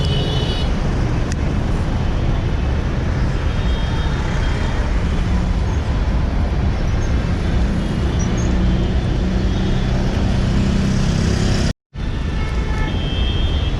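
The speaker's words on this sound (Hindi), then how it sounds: "साइड में भी देख सकते हो आप कितना ट्रैफिक आ रहा है" Dense city road traffic streams past an intersection on a main road, heard up close as a loud, continuous rumble of cars, buses and trucks with occasional horn toots, briefly cut off once.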